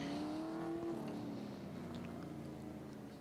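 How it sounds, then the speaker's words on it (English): Race car engines warming up before a 25-lap race at Grand Bend Speedway on a race night give a steady mid-distance drone, with one engine holding a clear tone that eases off and fades. "Drivers getting their engines warmed up, their tires warmed up."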